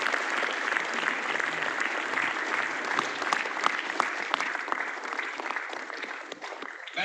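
An audience at a business success-story event claps for an honoured guest, loud continuous applause with distinct sharp claps standing out, dipping briefly near the close.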